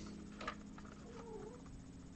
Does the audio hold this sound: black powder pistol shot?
no